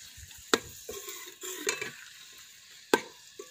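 Onions fry in a pan for a vegetable dish with a soft, steady sizzle, while a spoon stirs them and clinks sharply against the pan a few times.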